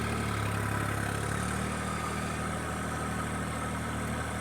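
A compact tractor loader's engine idles steadily, a constant low rumble with a fine mechanical hum, close and alone with no talk.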